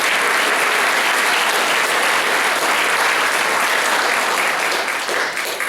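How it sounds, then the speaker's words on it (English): Dense, loud applause from a concert audience at a holiday concert, praising the horn section; continuous crowd clapping that holds strong throughout and tapers slightly at the end. "Please give them a round of applause."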